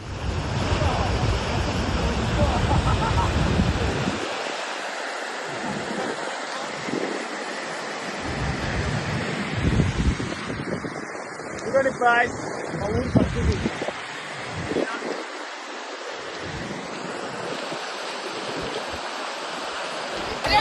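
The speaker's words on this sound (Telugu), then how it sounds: "రైల్వే ట్రాక్పై నుంచి భారీ నీటి ప్రవాహం వెళ్తుండడంతో రైళ్లను తాత్కాలికంగా నిలిపివేశారు" Heavy floodwater from the Kamareddy floods rushes over railway tracks with a constant loud roar and wind buffeting the microphone, while a voice talks over the torrent.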